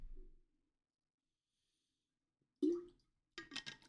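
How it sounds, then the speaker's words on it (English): A few quiet sips of drinking water, a short wet slurp followed by softer gulping and breathy sounds, close and faint after a pause of near silence. "Let me take another sip of my water really quickly."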